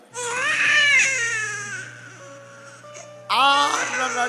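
A baby cries loudly in two wailing bursts, a high infant cry that fades into whimpering before rising sharply again.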